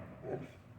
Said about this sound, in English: I had a little bit of dog craziness go on for just a second there